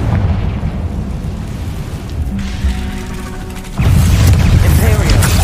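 A Confringo fire spell detonates in Hogwarts Legacy, a loud booming burst that jumps in level near the end over a dense, rumbling game soundscape with faint voice.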